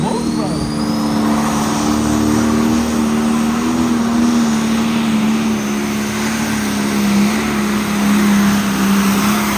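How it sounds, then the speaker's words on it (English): A big John Deere special edition pulling tractor roars at a high-horsepower truck and tractor pull in Springville, Iowa, a loud, steady, sustained engine drone held at high revs throughout, with an announcer's voice faintly over it. "Steve Busama, Worthington, Minnesota, driving the special edition tractor now."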